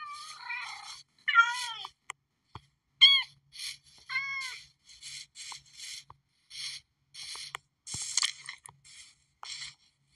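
Minecraft cats meowing and purring in the video game: a string of about a dozen short, clear mews, some rising and some falling, close and fairly loud with brief gaps, and no talk.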